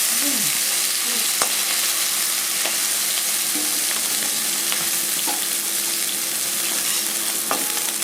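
Bay leaves and radhuni seeds tempering in hot oil in a pan, a dense even crackling sizzle, close and continuous, with a few sharp taps of a utensil against the pan and no talking.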